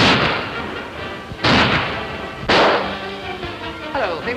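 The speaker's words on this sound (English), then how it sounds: "what were those shots in the garden?" Two sharp, loud gunshots ring out in a garden, spaced about a second apart, each with a short ringing decay, over a background of faint, muffled voices.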